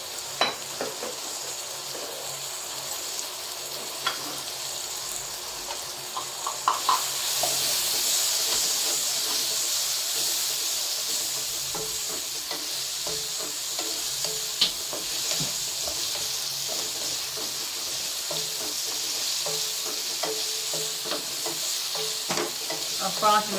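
Chicken pasta ingredients with garlic and ginger powder fry in a pan, a loud continuous sizzle and hiss with scattered stirring clicks, growing stronger after a sudden burst of steam partway through.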